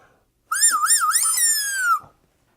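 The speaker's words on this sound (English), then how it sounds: "I found the right finger that whistles." A joke finger blown like a whistle gives one loud, clear tonal whistle of about one and a half seconds, close by. The pitch first wobbles up and down in quick waves, then holds steady and slides gently downward before stopping.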